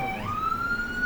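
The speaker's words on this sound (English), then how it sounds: "Hey, y'all hear the sirens?" An emergency vehicle siren wails steadily from outside, its tone sliding upward and holding, moderately loud against a low background rumble with no one talking.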